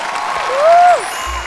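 Steady audience applause for a couple on a comedy show, dense clapping with a rising tonal whistle or vocal glide cutting across the middle.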